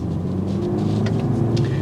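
Steady low exhaust drone from a 2022 BMW 230i coupe cruising at low revs, a continuous rumble with a few faint higher flickers, close and unbroken, with no voices.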